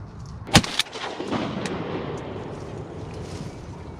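A single sharp, close shotgun blast fired while duck hunting from a pirogue on Louisiana public land, followed by a softer echo and steady wind and water noise.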